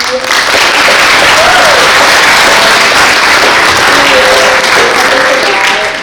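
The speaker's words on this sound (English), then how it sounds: "round of applause for Miss McCarthy" A loud, sustained round of applause from an audience at an exhibition and Q&A event, dense clapping held steady from start to finish, with a voice faintly audible beneath it.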